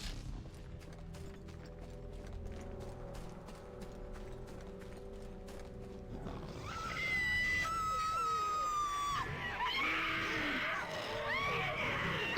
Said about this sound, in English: She's screaming real loud.